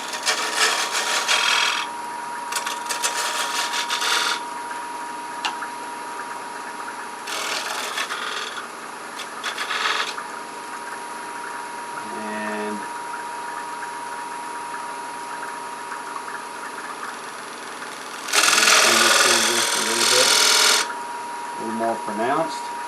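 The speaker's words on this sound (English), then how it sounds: "I'm going to use my detail gouge to kind of round this over a little bit" A detail gouge cuts a spinning wooden medallion ornament on a lathe, giving bursts of raspy scraping separated by quieter stretches of lathe hum, with a longer, louder cutting pass near the end.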